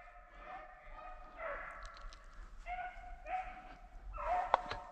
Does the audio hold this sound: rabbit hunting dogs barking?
yes